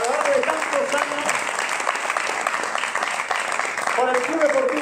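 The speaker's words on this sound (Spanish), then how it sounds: "Si damos un aplauso a todos estos jugadores" Applause for players of a football club, CD Eldense, at its 99th anniversary celebration, a steady crowd clapping throughout with talk over the start and end.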